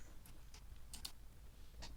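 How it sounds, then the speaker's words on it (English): Quiet, close typing on a computer keyboard, a few sparse key clicks scattered over two seconds against a faint background hum. "I can hear you furiously typing now"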